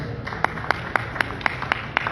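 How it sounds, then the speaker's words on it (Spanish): Sparse, distinct handclaps from a small audience at a book presentation at a book fair in Morelia, about eight sharp claps in an uneven rhythm, fairly close and thin rather than a full ovation. "el doctor Pedro Urquijo Torres, para quienes pido un gran aplauso"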